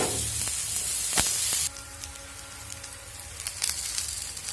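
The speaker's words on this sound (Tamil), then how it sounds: "இப்போ தோசைக்கல்ல எண்ணெய் விட்டுருக்குங்க. ஒரு வெண்டைக்காயாக இதில் அப்படியே போட்டுருங்க." Okra tossed with masala and dropped onto an oiled dosa griddle gives a loud, steady sizzle that thins to a quieter crackle partway through, with a few sharp pops and spits.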